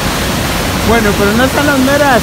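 Rushing river water near Niagara Falls gives a steady broadband roar, with someone speaking Spanish close by over it.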